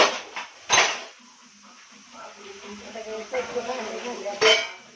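Dishes, pots and pans clatter and clink during washing and scrubbing, with a few sharp metallic knocks over softer rubbing and splashing, fairly close and mostly heard alone.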